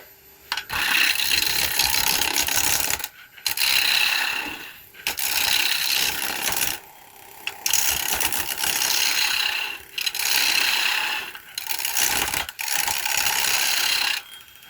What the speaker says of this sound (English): I'm just letting the lathe spin the wood and actually let the gouge cut it